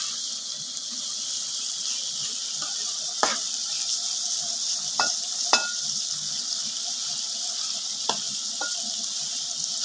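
Onions, green chillies, mustard seeds and cumin seeds frying in hot oil give a steady close sizzle, broken by a few sharp spoon scrapes or spattering pops, with no talking.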